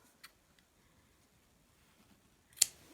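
Scissors snip through felt yarn on a needle felted sushi piece, a faint click early on, then one crisp, close cut near the end of an otherwise quiet stretch.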